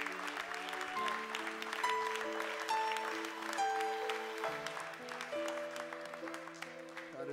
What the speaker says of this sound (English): let's give Jesus a clap offering in this place